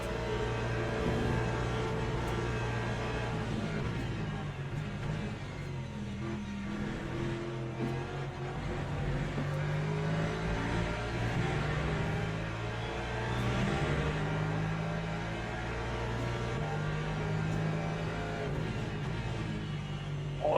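Race car engines in the Le Mans Ultimate racing game, a Porsche and a Corvette on track, make a continuous droning whine whose pitch rises and falls as the cars accelerate and lift, steady and loud throughout.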